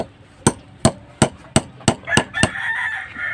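Hammer strikes driving nails into a wall during plaster layout work, seven sharp evenly spaced blows about a third of a second apart, fairly close and loud, ending with a faint ringing tone after the last hits.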